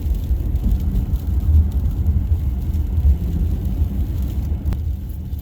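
A 2022 Ford Maverick AWD EcoBoost cruises at normal speed through a snowy neighborhood, its engine and road noise a steady low rumble heard from inside the cab, with no speech.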